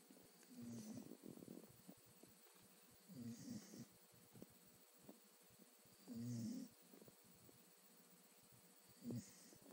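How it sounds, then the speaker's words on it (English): A person asleep snores in slow, rough breaths at close range, with about four louder snorts spaced a few seconds apart over a quiet room background. "He's snoring."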